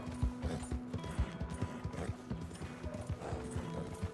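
Horse galloping in Red Dead Redemption: steady, rhythmic clip-clop hoofbeats close up, running continuously with a low sustained tone beneath and no talking.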